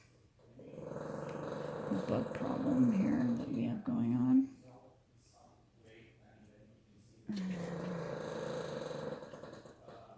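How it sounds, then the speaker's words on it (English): A dog snores in the background of a home garden scene, a low rasping rumble in two long stretches with a quiet pause between, while a person talks over it. "That's my dog snoring in the background."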